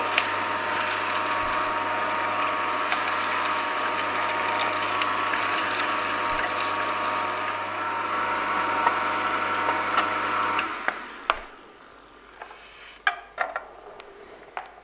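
An Angel twin-gear juicer grinds apples with a steady whirring, grinding drone for about ten seconds, then stops, leaving a few sharp clicks and knocks of parts being handled up close.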